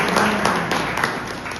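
Audience at a training session on preventing chlorine gas leaks claps in a steady, moderately loud wash of hands in a room, lasting a moment and tapering slightly toward the end.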